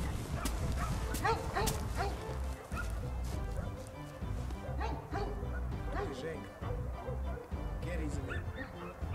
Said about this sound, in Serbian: A ne čuješ kjera kako laje?